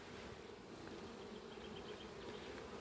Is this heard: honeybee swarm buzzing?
yes